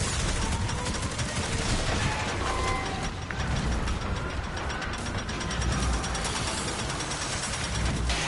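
Enemy gunfire in Destiny 2 during a solo boss fight, a dense, continuous clatter of rapid shots and mechanical rattling that fills the whole stretch without pause.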